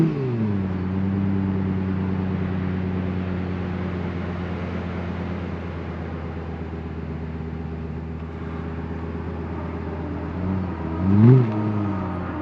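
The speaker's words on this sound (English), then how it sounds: "this car instantly came to my mind is the LFA, that Yamaha V10." Lexus LFA with its Yamaha V10 engine holds a steady, loud harmonic drone, then swells in a short rev near the end, heard up close with no talking.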